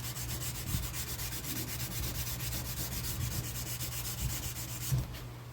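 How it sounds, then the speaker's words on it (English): Steady back-and-forth block sanding of a firearm stock with 220-grit sandpaper, an even close rasping rub with faint rhythmic strokes and a low hum beneath, no talk. "I'll just go ahead and sand all this with the 220"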